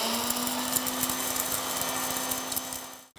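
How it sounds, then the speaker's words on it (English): A kitchen mixer grinder grinds spices for chole masala, a loud steady high-pitched whirring hum close by that cuts off abruptly at the end. "We'll further grind this."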